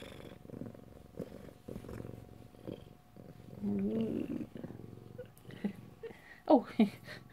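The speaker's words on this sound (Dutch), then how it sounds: "En heel hard spinnen." A cat purring while its belly is stroked, a soft low rumbling purr with a few whiny mews near the end, close by, with a person talking gently over it at times.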